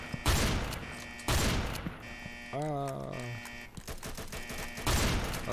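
Bursts of gunfire in the Roblox game Mad City, with rapid volleys of shots at the start, middle and end, loud and dense, mixed with game sound effects and a brief rising electronic tone.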